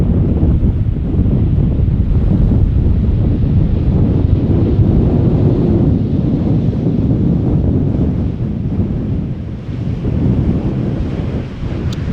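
Strong crosswind at Schiphol Airport buffets the microphone in a loud, continuous roar of wind noise with deep rumbling gusts and no break for the whole stretch.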